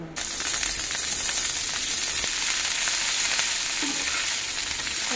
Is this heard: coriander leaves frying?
yes